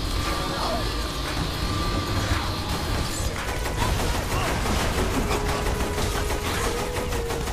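Sustained rapid gunfire in Saints Row The Third, a dense continuous crackle of shots during a fight against a tank, with someone talking over it.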